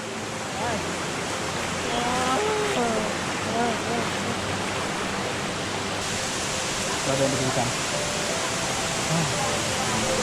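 Steady broadband rush of a waterfall beside a mountain trail in the Teen Kai valley, loud and continuous throughout, with people talking over it.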